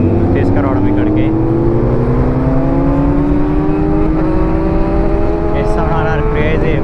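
A BMW S1000RR superbike with a full-system exhaust revs steadily and loudly close by, its engine note climbing slowly over the whole stretch, with a rider's voice talking over it.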